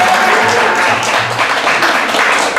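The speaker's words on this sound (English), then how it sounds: "Another round of applause for all you people." An improv theater audience applauds, a dense wash of clapping held at steady volume, with some voices mixed in underneath.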